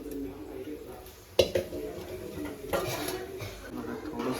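Rice being stirred in boiling water in a pot for homemade chicken biryani, a sharp metal clank of the spoon against the pot followed by lighter scraping knocks over a bubbling background.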